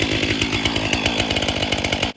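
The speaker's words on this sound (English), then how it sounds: "me out on a Sunday morning having some fun with my new saw" A STIHL MS 500i chainsaw runs steadily at high revs outdoors, loud and close, with a dense buzzing roar and no talk.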